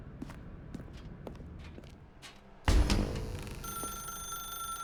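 A telephone in The Stanley Parable starts ringing after a few soft footsteps, a bright electronic trill that sounds near and continues steadily to the end.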